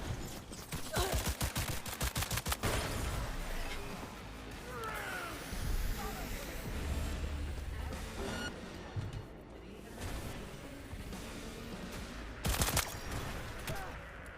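Gunfire in a video game comes as bursts of rapid, loud shots and scattered single reports over a busy soundscape, near and dense at the start, with a person talking in between.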